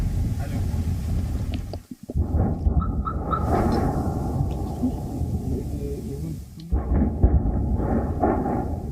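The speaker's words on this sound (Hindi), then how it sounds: "लगातार ये धमाकों की आवाज़ है" Heavy rumbling booms roll on continuously, broken by a brief lull, like sustained distant explosions echoing across open ground, in a war zone in Ukraine about 30 kilometres from Russia.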